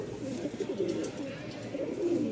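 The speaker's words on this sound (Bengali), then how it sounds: "ওই যে ডাকতেছে একদম ফুললি ব্রিডিং মোডে আছে, পাগলা ডাক" A white Lakka pigeon in breeding condition coos close by, low throaty rolling coos repeating in quick succession over a couple of seconds.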